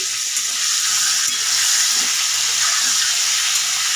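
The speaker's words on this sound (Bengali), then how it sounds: "পটলগুলো ভেজে নেব, সবকটা পটল খুব ভালো করে একটু ভেজে নেব।" Pieces of pointed gourd (potol) fry in hot oil, producing a loud, steady, close-up sizzle and hiss that holds evenly from start to finish with no voices.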